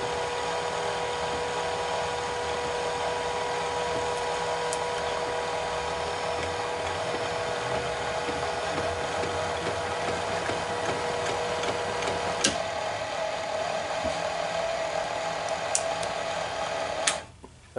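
A mini mill running a 50mm 4-flute face mill across a steel workpiece gives a steady, continuous machining whine with a constant tone, ending in a brief clatter as the cut stops.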